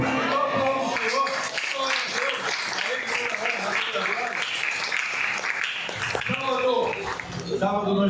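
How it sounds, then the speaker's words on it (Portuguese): A church congregation applauds the Lord during a service, steady dense clapping filling the room while a preacher keeps speaking over it. "Aplauda o Senhor."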